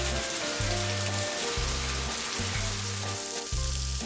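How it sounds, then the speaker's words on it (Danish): Trout fillets cooking on a grill give a steady, close sizzle and crackle, with a low rhythmic thumping pulse underneath and no voices. "Det er ørredfiléer. Bare sådan 8-10 minutter på grillen."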